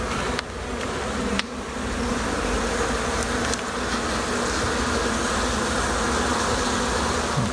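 Steady, dense droning buzz of honey bees inside a hive box, continuous and close with a few faint knocks, no voices.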